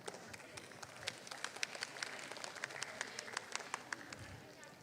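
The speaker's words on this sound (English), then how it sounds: "Please proceed for a photo session and giving our best applause." Audience applause at an academic conference signing ceremony, a steady wash of many hands clapping at a moderate distance, continuous and fairly quiet throughout.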